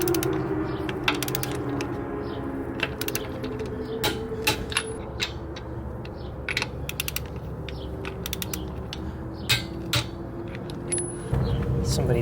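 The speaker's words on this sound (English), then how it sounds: "I'm gonna torque these lug nuts down" Lug nuts on a 2021 Kia Sorento wheel are torqued down after a flat tire fix, repeated sharp ratcheting clicks and creaks in irregular bursts over a steady background hum, with occasional talk.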